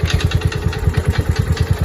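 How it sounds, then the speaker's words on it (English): A Kawasaki FE290 small engine, just back from storage and running slightly lean, idles steadily in a fast, even chugging pulse. It is close and alone, with no voices. "Seems to be idling pretty good."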